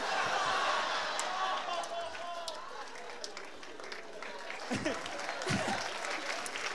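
Distant audience applause rolls on under a murmur of crowd chatter, faint and continuous throughout.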